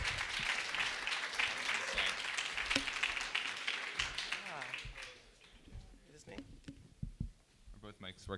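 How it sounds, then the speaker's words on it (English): Audience clapping for lightning talk speakers at a hackathon conference, a dense burst of applause that fades out halfway through, followed by scattered handling noises and a voice speaking near the microphone. "So give them a round of applause."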